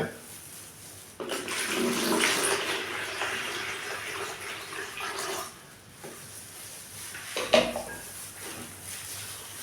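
Chocolate ice mixture poured into a liter of water and stirred, a steady splashing, sloshing wash with clinks of utensil against pot and a brief sharper knock near the end, close and moderately loud.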